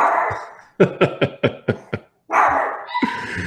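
A dog barks in a quick run of about six sharp, loud barks, framed by short whining or howling sounds before and after, heard nearby with no talking.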